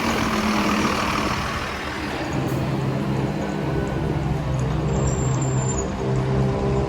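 A SuperLoop SL11 bus pulls away from Woolwich station, its heavy diesel engine rumbling low and steady at close range, with broadband road and traffic noise filling the background and no talk.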